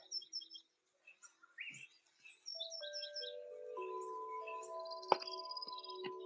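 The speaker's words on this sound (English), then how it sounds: "I had the birds a little bit loud" Birds chirp and tweet in short repeated bursts, then a steadier mix of bird calls and bright tonal notes continues, with one sharp click near the end.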